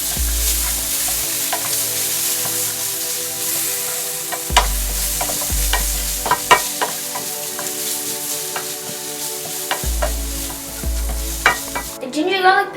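Ginger garlic paste and turmeric powder sizzle and fry in a pan for a bell pepper ring omelette while a spoon stirs them, loud scraping strokes coming in bursts over a continuous close sizzle.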